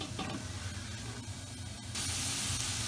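Diced brown onion sizzles in hot vegetable oil over medium heat, a steady close hiss that grows brighter and louder partway through, with no voices.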